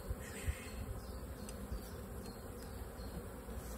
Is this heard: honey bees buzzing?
yes